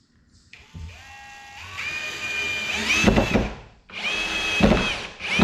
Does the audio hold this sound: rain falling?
no